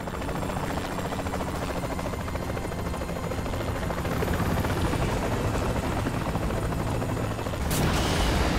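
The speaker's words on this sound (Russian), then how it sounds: "Поосторожней там, я вижу вертолеты." Helicopter rotor chop in Saints Row The Third Remastered, a loud, steady thudding drone that continues throughout, with a brief sharp impact near the end.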